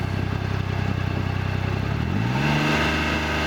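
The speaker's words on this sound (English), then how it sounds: "Rev it up again." A joystick-controlled UTV wheelchair engine idles with a loud, close rumble, then revs up sharply partway through, its pitch climbing and holding at a higher drone.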